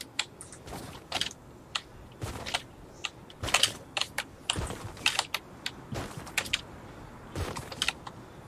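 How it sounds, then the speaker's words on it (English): Rapid clicking keystrokes typed on a computer keyboard, a steady irregular patter of sharp key taps at close range with no talking. "Keyboard ASMR."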